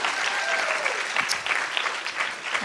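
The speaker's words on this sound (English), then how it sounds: "I'd like to give him a round of applause" Dense applause from a youth involvement conference audience, a continuous wash of many hands clapping at steady loudness for a few seconds, with a brief murmur of voices underneath.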